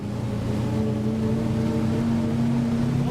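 A BRDM-2M armored vehicle's engine runs at half throttle in a steady, loud drone. A strong low hum with harmonic tones holds evenly throughout, and no voices are heard.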